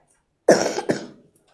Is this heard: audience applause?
no